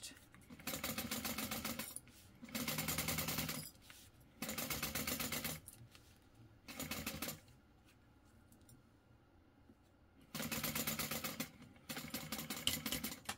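A sewing machine top stitching a crossbody bag runs in several rapid mechanical bursts of a few seconds each, separated by quiet pauses, close and fairly loud.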